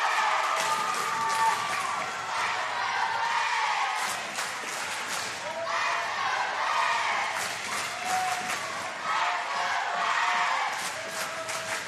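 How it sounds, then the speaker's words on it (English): Crowd at a girls' high school basketball game between James Monroe and Greenbrier West cheers and claps in a gym, a continuous loud roar with shouts and sneaker squeaks rising in bursts. "Crowd really getting into it now"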